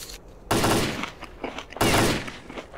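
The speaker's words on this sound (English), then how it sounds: "That was loud gunfire." Two loud, close bursts of rapid gunfire in the video game S.T.A.L.K.E.R., each a harsh rattling volley, with a short pause between them.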